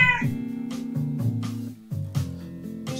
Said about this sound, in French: Chaque chat a son miaulement